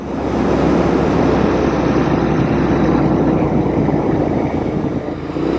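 A custom Royal Enfield INT/GT hybrid motorcycle, the Clymer by Baxter Custom Works, rumbles with a loud, steady engine drone close by, with some wind buffeting and a slight drop near the end.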